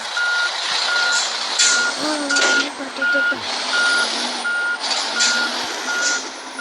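Steady reversing beeps from a truck being backed into a parking spot repeat in an even rhythm, loud and close, over street noise and a passing engine.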